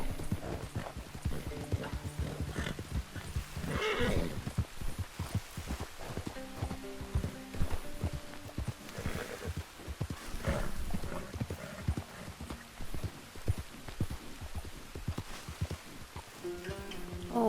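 A horse in Red Dead Redemption 2 on a narrow, winding trail gives a steady, close clip-clop of hooves throughout, with a brief neigh partway through.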